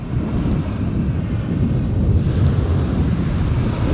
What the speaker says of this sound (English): it gets a bit windy out that way